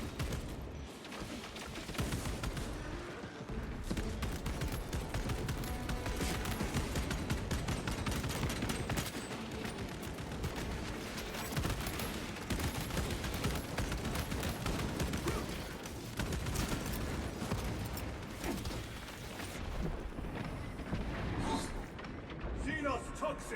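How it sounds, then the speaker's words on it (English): Bolter gunfire in Warhammer 40,000: Space Marine 2, dense rapid bursts of heavy shots and explosions packed almost continuously, loud and close, with combat voices shouting over the barrage. "My bolter will silence you!"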